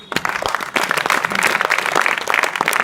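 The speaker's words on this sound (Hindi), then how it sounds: "ताली बजाइए।" Classroom applause at a school adolescence education session in an inter college, a steady wash of many hands clapping together, fairly loud and close, with no talk over it.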